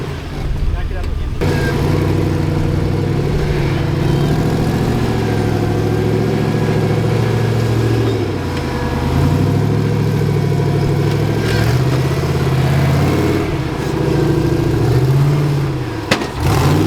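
Suzuki Samurai engine idling and pulling gently while the vehicle backs up off-road, a steady loud mid-pitched rumble with slight throttle swells, and people talking over it.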